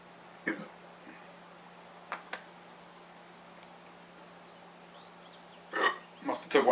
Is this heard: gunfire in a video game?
no